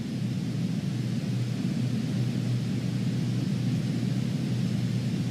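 Cirrus Vision Jet G2 cruising in Microsoft Flight Simulator 2020, a steady broad cabin roar with low rumble, even and unbroken, with no voices over it.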